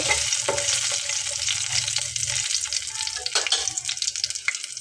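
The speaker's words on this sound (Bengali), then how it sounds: "তারপরে আমি এখানে দিয়ে দিলাম রসুনের কোয়াটা হালকা একটু নেড়ে দেব" Garlic cloves and fenugreek seeds fry in oil with light stirring, a loud, close, continuous sizzle with a few clattering spatula touches toward the end.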